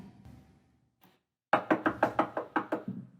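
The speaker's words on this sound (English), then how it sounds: "Hark, more knocking." Knocking at a door in a staged Macbeth audio recording: about ten firm, evenly spaced raps, loud and close, following a faint stretch of room sound with no talk.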